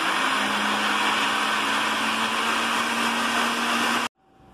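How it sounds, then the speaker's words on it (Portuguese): A kitchen blender whirs continuously at high speed while mixing bread dough ingredients, loud and close, then cuts off abruptly near the end leaving faint room noise. "já bati todos os ingredientes no liquidificador já"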